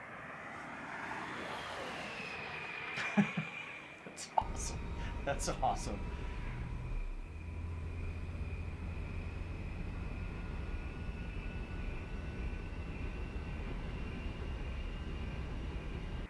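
An electric race car passes with a high, jet-like whine that slides down in pitch as it goes by and then holds as a steady distant tone, while people talk excitedly over it.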